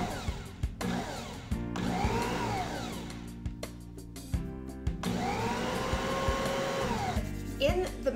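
Bosch stand mixer fitted with a whisk attachment running in a bowl of cinnamon roll dough, a loud steady motor whir that stops briefly and restarts, with a voice talking over it.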